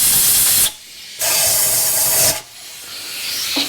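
Compressed air blasts out the bolt holes of a 1963 Chevy C10 engine after gasket scraping, two loud, close hissing bursts separated by short pauses, with a fainter hiss trailing at the end.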